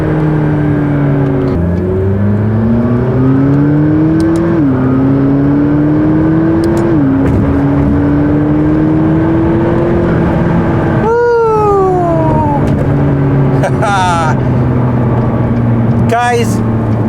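McLaren MP4-12C sports car engine revving and shifting while driving, a loud droning tone that climbs through several gear changes, then sweeps down and back up, with wind and road noise.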